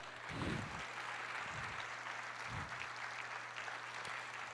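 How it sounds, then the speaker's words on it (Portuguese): A church congregation claps in praise, a broad, steady wash of applause with a low hum underneath and a few soft low thumps from voices or movement, heard somewhat distant. "Aplauda o Senhor"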